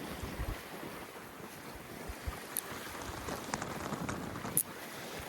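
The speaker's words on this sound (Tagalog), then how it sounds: "Lakas na naman ng hangin." Strong, gusty wind at the sea shore buffets the microphone, with rough rumbling and a low wash of surf behind it and a few sharp knocks along the way.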